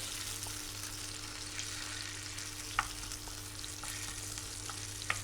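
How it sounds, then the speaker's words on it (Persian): Tomato paste sizzles and fries in a pan, a soft, constant crackle at low volume with a steady background hum. A couple of faint clicks of stirring break through, and no one speaks. "من رب رو همین کنار تفت میدم."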